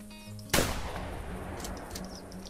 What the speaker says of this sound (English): Shoot this guy at the sky.